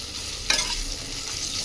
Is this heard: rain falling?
no